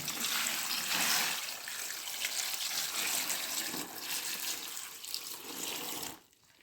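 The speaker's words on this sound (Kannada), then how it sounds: "ಸ್ವಲ್ಪ ನೀರು ಹಾಕಿಕೊಳ್ತಾ ಇದ್ದೇನೆ." Water pours in a steady, splashing stream for several seconds, close by, then stops abruptly near the end.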